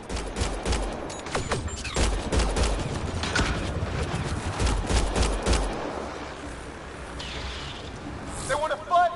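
Rapid gunfire in the video game Mass Effect Andromeda, a dense fusillade of overlapping shots and bursts through most of the stretch before thinning out, with voices shouting in the midst of it.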